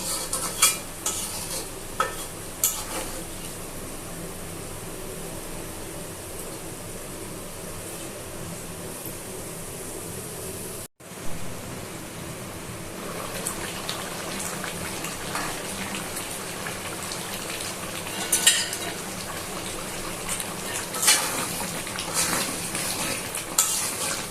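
Chicken curry meat is stirred and fried in a pan with a little water, giving a long steady sizzle with repeated scraping and clinking of a spoon against the pan and a brief cut partway through.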